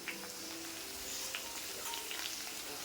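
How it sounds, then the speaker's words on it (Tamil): Steady, dense sizzling of onions frying in a pan, a continuous crackling hiss with occasional brighter pops, no talking. "வெங்காயம் நல்லா வதங்கி வந்துருச்சு"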